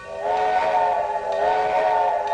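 A steam-era train whistle in the Trainz 2022 railway simulator sounds as one long, steady chord-like blast, loud and close, with no talking.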